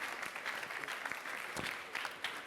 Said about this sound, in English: So a round of applause for Peter.